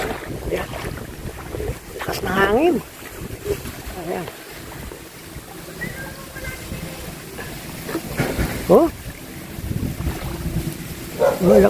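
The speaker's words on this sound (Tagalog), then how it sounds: "Hinahangin na kami, kaya ito." Strong wind buffets a fishing boat at sea, roaring steadily through the microphone with a low engine-like rumble underneath, while people talk intermittently over it.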